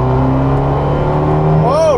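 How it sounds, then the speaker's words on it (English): A tuned Fiat 124 Spider pulls hard in third gear from around 3,500 RPM, its engine a steady, close droning note that climbs slowly in pitch, with a brief rising whine near the end. "Let's give it a little 3rd gear pull and see how she feels."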